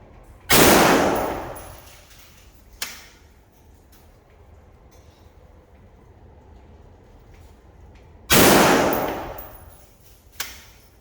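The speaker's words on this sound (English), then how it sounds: "All right, I'm gonna go for the top middle target, 5 rounds." Two loud, sharp rifle reports from a Springfield Armory Saint crack out several seconds apart at an outdoor range, each with a short decaying echo, plus a faint metallic clink between them.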